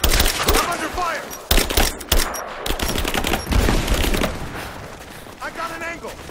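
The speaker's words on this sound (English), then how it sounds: "He's dead! I'm under fire!" Rapid bursts of gunfire in the Rise of the Tomb Raider video game, loud and close, with sharp cracks and machine-gun rattles, while voices shout over the firefight.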